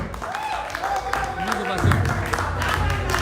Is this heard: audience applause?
yes